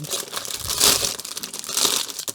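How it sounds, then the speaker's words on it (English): Close, crackly crinkling of plastic bubble wrap being handled, with busy rustling bursts swelling and easing over a couple of seconds. "Crinkle, crinkle sound."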